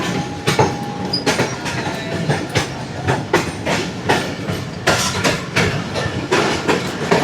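The Shalimar Express runs on rails with a steady, rhythmic clickety-clack of wheels over rail joints, heard close and continuous alongside the rumble of the moving carriages.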